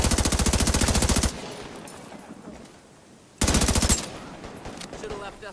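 Automatic gunfire in Tom Clancy's The Division 2 during a firefight with hostile gang members, with two loud, rapid sustained bursts separated by a quieter lull that carries faint effects.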